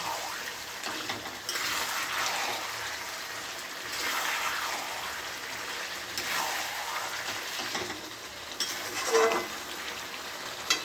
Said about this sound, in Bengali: ভাজা আলুগুলো দিয়ে দিয়েছি, এখন একটু কষে নেবো